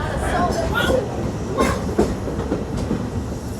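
The Liberty Belle riverboat at Magic Kingdom, not a train, rumbles steadily along with rhythmic clacking, while a voice talks over the noise.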